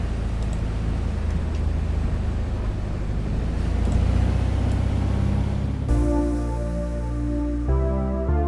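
Beechcraft Bonanza piston engine revving up for takeoff in the A2A flight simulator: a steady loud drone building in intensity, then giving way to a music track in the final seconds.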